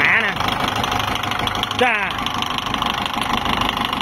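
A farm tractor's diesel engine runs at a steady idle with a loud knocking chug, close by. A voice briefly speaks over it.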